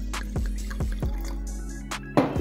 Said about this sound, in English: Damn, get that pour going.